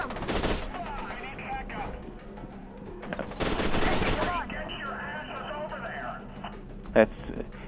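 Gunfire rattles through the first-person shooter F.E.A.R. 2 in loud automatic bursts near the start and middle, with a single sharp shot near the end, while voices talk between the volleys.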